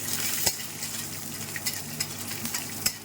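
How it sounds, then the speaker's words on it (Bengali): A handful of almonds fry in ghee, a close, steady sizzle with repeated scraping stirs and a few sharp clinks of a spoon on the pan. "এবার 1 মুঠো মতো আমন্ড দিচ্ছি, সেটাকেও একটু ভেজে নেবো ঘিতে।"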